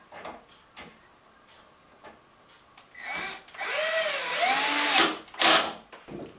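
A power drill drives screws to refix wooden boards on a bathroom sink cabinet, heard as scattered clicks and then a loud whirring run whose pitch rises and falls, cut off, with a short final burst.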